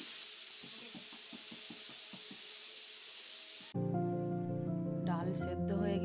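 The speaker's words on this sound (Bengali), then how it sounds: "এবার ঢাকনাটা বন্ধ করে 6 থেকে 7টি সিটি দিয়ে ডাল সেদ্ধ করে নিতে হবে" Steam hisses steadily and fairly loudly from a pressure cooker boiling dal on the stove. A rhythmic low ticking runs under the hiss, which then cuts off abruptly and gives way to a tonal, musical passage.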